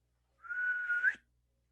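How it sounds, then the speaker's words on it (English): A person whistles one clear, sustained note that rises slightly at the end to call a bird, short and alone in a quiet room. "Whistles"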